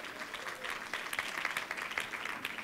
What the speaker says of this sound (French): Je sais que vous applaudissez par politesse